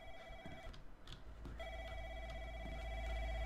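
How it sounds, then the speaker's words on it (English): A telephone rings in the indie horror game Room 303 with a warbling electronic ring in two bursts separated by a short gap, loud and close over a low hum. "This turns out to be a phone."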